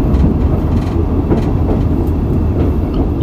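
An X72500 diesel railcar running on the line from Toulouse to Tessonnières, heard from inside as a loud, steady rumble with faint rhythmic clicks from the track joints and no speech.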